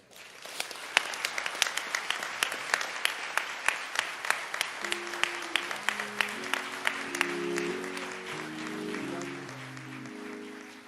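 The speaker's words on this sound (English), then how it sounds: "please give his family another round of applause" Crowd at a memorial service in Minneapolis applauding steadily, a dense wash of clapping with sharp individual claps throughout, while organ-like sustained chords swell underneath in the second half.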